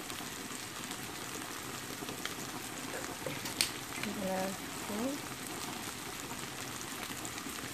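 Mushrooms with salt, pepper and chives frying in a pan, a steady soft sizzle and crackle running throughout, with faint voice sounds briefly in the middle.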